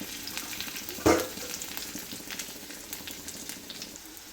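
Urad dal, dried red chillies, garlic and ginger sauté together in a pan with a soft, steady sizzle, marked by one sharp louder burst of crackling near the start before settling back into a quiet fry.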